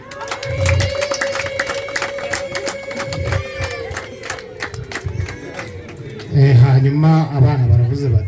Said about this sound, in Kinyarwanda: mumumera amashyi n'impundu bihagije